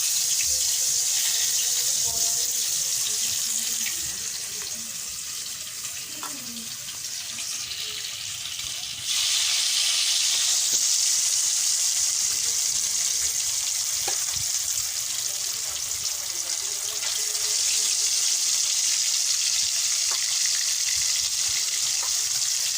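Whole fish being washed under a running tap at a sink, a steady loud rush of water with splashing and handling throughout, no talking.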